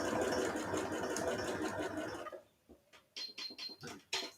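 A sewing machine stitches fabric for beginner pajama pants, running in a steady continuous whir for about two seconds, then breaking into short separate bursts of stitching with quiet gaps between them.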